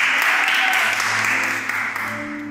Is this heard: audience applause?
yes